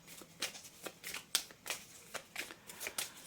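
Tarot cards handled and laid into a spread: a quick run of close, crisp card flicks and slides, roughly a dozen soft snaps at an uneven rhythm with no talking over them.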